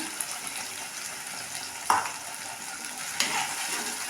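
Ground roasted paste for a raw mango curry sautéing in a pan, with a soft steady sizzle and two sharper utensil scrapes partway through, fairly quiet and with no voices.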